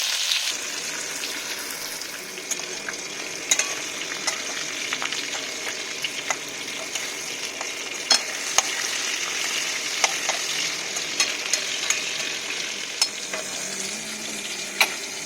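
Fish pieces frying in oil give a constant crackling sizzle, dotted with small pops and sharp spattering ticks.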